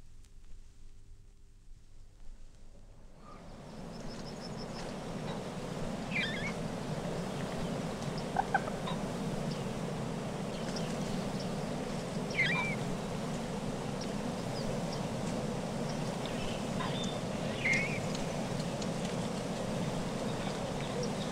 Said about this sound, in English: Water rail, Rallus aquaticus, calls of young birds.